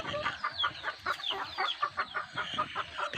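Pet chickens kept outdoors at a rural home cluck and chatter in a steady, busy stream of short calls, fairly close and moderately loud, with no talking over them.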